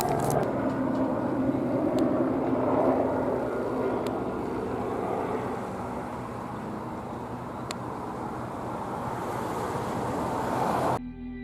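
A helicopter approaches, a broad, steady rotor-and-engine roar that lingers at moderate distance, easing slightly midway before the sound cuts off, with no voices present.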